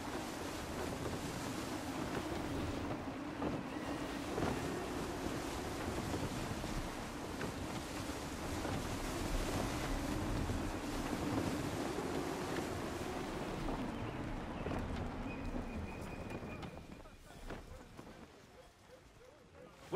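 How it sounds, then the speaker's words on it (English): Gusty wind and waves at sea in the Assassin's Creed 3 video game make a steady, loud rushing roar of wind and surf that eases off toward the end, with voices speaking over it. "Gusty winds can be difficult to manage."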